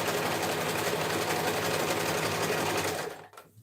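A sewing machine stitches a seam on a dressform cover, running at a steady, even whir close up for about three seconds before stopping abruptly.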